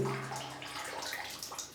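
Hot water rushes steadily from the tap of an instant running water heater, a close, continuous splashing flow with no talk over it.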